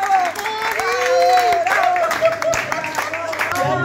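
Passengers on a tour bus to Villa Carlos Paz applaud in a short burst of clapping and cheers, mixed with lively voices and shouts over the cabin noise.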